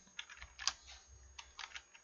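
Computer keyboard keys typed in a quick, irregular run of close, soft clicks during a spreadsheet formula demonstration, with a slightly firmer keystroke near the middle; no talking.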